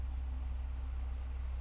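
Electric fan running steadily indoors, a constant low hum with a faint broadband whoosh, unbroken and alone.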